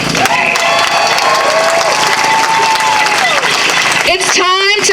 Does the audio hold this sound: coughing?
no